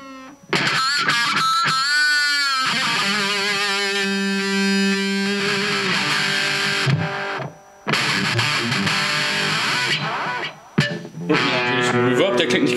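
An electric guitar through a Line 6 Spider III 15-watt amp with its tape echo delay, played in distorted phrases and sustained notes whose repeats trail off, with brief gaps between passages and no talking.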